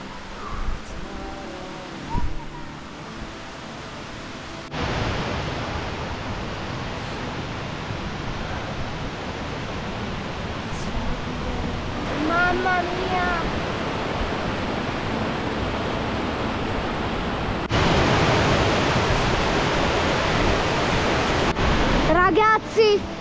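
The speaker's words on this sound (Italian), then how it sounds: "Comunque siamo arrivati alle cascate." Waterfalls in Gran Paradiso National Park give off a constant broad roar of falling water that fills the whole clip, growing louder toward the end, with brief bird calls and faint bits of movement near the microphone.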